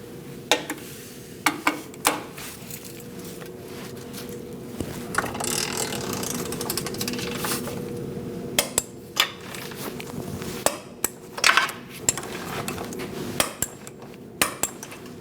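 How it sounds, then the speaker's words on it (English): Torque wrench ratcheting on the AC condenser nuts of a 2000-2006 Mini Cooper 1.6L, with repeated sharp clicks and metallic clacks in irregular bursts, close and loud, with no talking. "We'll go around and torque these nuts to 33 foot-pounds"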